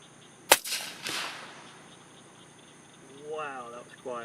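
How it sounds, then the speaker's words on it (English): A suppressed .308 subsonic boat-tail hollow-point match round fired from a Remington 700 rifle with a Griffin Optimus silencer gives one sharp, muffled crack followed by a brief trailing thump, with a voice speaking afterward. "I'm going to shoot through my Remington 700"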